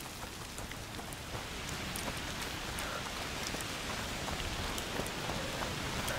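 Heavy rain pours in A Plague Tale: Requiem, a dense, steady wash of drops with a sharper patter of individual hits, with no voices.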